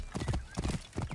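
Horse hooves clip-clop in a quick, steady galloping rhythm in Assassin's Creed Origins, close and prominent, with no talking over it.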